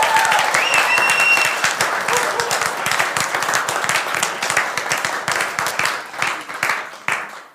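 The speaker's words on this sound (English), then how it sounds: "let's give them a big applause" Audience applause at a live sommelier competition final, a dense wash of many hands clapping that stays loud for most of the stretch, then thins into scattered claps near the end.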